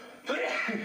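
A single sneeze bursts out with a sharp broadband onset, then trails into a short voiced tail, close and fairly loud against quiet room noise, amid friends reacting to outtakes.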